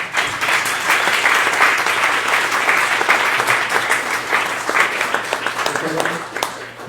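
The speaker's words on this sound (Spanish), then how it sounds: "les pido un aplauso" An audience at a public-policy presentation applauds the speakers: full, sustained clapping from a sizable crowd, thinning into scattered individual claps near the end.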